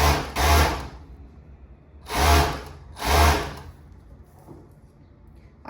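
A sewing machine sews elastic into a supplex cropped top in three short, close bursts of stitching with quiet gaps between them.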